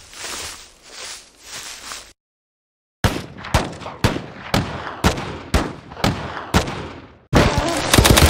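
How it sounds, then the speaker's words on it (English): Rapid bursts of video game gunfire in a muddy Rhine River battle, a dense rattle of shots, then a short silence, then a steady run of sharp, evenly spaced reports and a loud continuous volley at the end. "I'm opening fire!"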